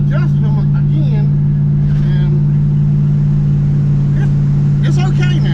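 A 1958 Dodge Coronet, its brakes freshly repaired, drones along on the road with a steady low engine hum, and someone talks over it throughout.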